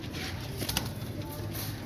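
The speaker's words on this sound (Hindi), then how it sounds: "ये लाल परी कबूतर" Lal Pari pigeons coo softly and steadily in a loft, a low murmuring flock sound with a faint bird call rising briefly above it.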